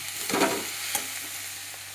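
Drumstick leaves tossed into a hot pan for a dry stir-fry, giving a steady sizzle with a couple of brief stirring scrapes, close and moderately quiet, no voices.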